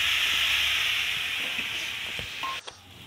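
Water hits hot oil tempered with spices for a mustard-paste pabda fish dish, raising a strong steamy hiss that slowly fades over a few seconds, ending with a brief clatter, without any talk.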